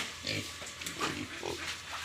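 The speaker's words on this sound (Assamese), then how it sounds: "এয়া গাহৰি ফাৰ্ম" Pigs grunting on a pig farm housed in a concrete shed, several short low grunts close by in a loose, uneven rhythm over steady background noise.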